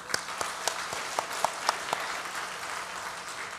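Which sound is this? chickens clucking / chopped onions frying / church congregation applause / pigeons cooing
church congregation applause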